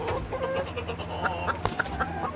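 Several chickens cluck softly and repeatedly close by, short bursts rising over a low steady background hum.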